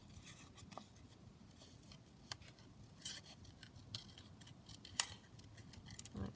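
Scissors trimming around a small craft stocking decoration made for Christmas gifts, giving faint, sparse snips and light clicks spaced irregularly at close range in a quiet room, with no talk.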